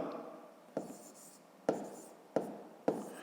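A pen taps and scratches on paper while numbers for long division are written, four or five short sharp strokes spaced about a second apart, close and quiet with no talking.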